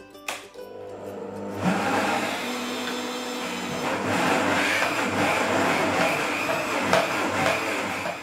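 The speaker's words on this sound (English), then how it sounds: "pop the lid on and blend again" A blender whirs steadily as it blends a thick mixture in its jug, a loud continuous motor drone that starts after a brief clunk and holds at an even level throughout.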